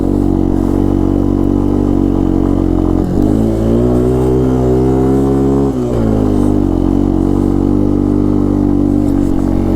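A Yamaha Tri-Moto 200 three-wheeler engine revs loudly and steadily in spring snow, bogging down under load as it strains for more power, with a brief dip around the middle before climbing again.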